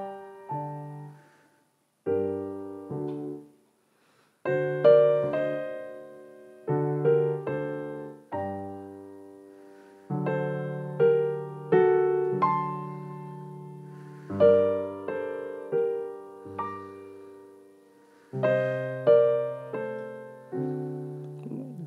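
Orchestral recording of the first movement of Vivaldi's Summer from The Four Seasons, with sustained string chords and phrases that rise and fade, broken by short pauses, played clearly with no voices.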